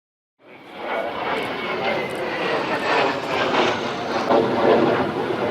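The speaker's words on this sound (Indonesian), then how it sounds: "pesawat tempur F-16 dari Skuadron 16 Pekanbaru mengejar pesawat asing tanpa izin yang melintas di langit wilayah Aceh" A steady, loud roar of an F-16 fighter jet in flight sweeps on for several seconds, with a broadband engine rush that swells gradually and some wind buffeting.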